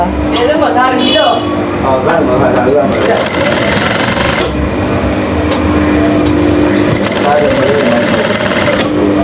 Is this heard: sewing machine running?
yes